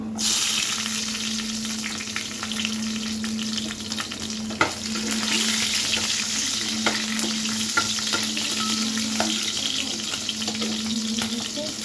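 Steady, close sizzle of vegetables frying in a pan, green chillies added to the pointed gourd, pumpkin and potato mix, with occasional stirring scrapes and a brief clatter partway through.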